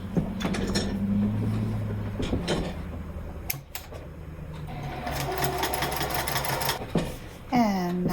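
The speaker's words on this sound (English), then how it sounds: "top stitch all the way around those finished edges" Close, steady whirring of a sewing machine topstitching around the finished edges of a fabric wallet flap, with small clicks and handling knocks, a brief pause midway, and a faint voice near the end.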